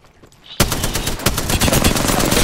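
Rapid automatic gunfire in the battle royale game Apex Legends, aimed at an enemy, starting abruptly after a brief quiet moment and continuing as a loud, dense, close stream of shots.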